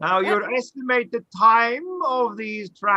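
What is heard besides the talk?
No everyday noise stands out behind the speech.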